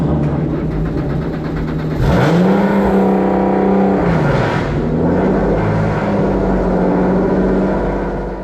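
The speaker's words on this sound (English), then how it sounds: "With carbon fiber monocoque and 3-liter V6 engine, it can go at speed that will redefine your sense of speed." A YAS3000 racing car with a carbon fiber monocoque and 3-liter V6 engine driving at Yas Marina circuit, Abu Dhabi. The engine is loud and close, with rising and falling revs through repeated accelerations and gear changes.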